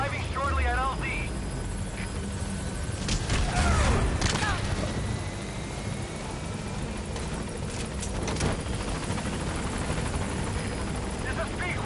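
Pequod helicopter from Metal Gear Solid arriving at a landing zone: a steady rotor and engine drone runs throughout, with gunfire-like bursts and game effects over it and voices talking intermittently.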